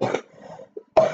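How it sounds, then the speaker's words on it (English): Two short, dry coughs from a person indoors, close and fairly loud, separated by a brief quiet pause. "also mute when I'm coughing."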